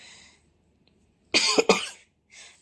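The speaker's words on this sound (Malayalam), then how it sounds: "സോറി കേട്ടോ ആ ചുമ ഉണ്ട്" A woman with a fever gives a pair of sharp, close coughs in quick succession, preceded and followed by faint breathy sounds, in a quiet room with no talking.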